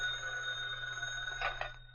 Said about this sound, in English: reached for the phone in answer to its ring